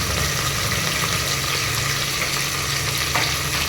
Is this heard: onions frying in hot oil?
yes